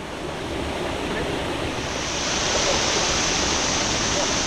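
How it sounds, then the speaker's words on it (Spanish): Waterfall at Cascada de Alcazar in Baños de Urquizar heard from a few metres away, a steady loud broadband roar of falling water that swells slightly louder partway through, with no talk over it. "Mira, amigos, qué buenas caídas de agua."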